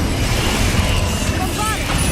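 A Confringo fire spell blast goes off in Hogwarts Legacy during a troll fight, a dense, loud burst of booming noise with a low rumbling body that stays steady throughout the short clip.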